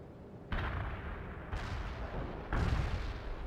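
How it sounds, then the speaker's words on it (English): Incoming artillery fire in the video game World in Conflict: three muffled booms land about a second apart, each followed by a rumbling tail, fairly faint and distant. "Incoming fire! Get down!"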